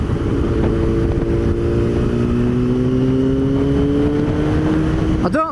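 Yamaha R6 Raven Edition motorcycle engine droning and rising steadily in pitch as it revs higher, loud and close with rushing wind, ending with a brief sharper burst.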